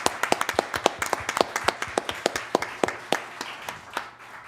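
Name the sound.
audience applause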